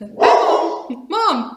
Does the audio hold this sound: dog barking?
yes